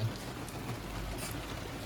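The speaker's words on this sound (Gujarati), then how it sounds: "તો જોઈ શકો છો વરસાદ પડે છે" Rain falls steadily as a soft, continuous patter and wash of noise, with nobody speaking.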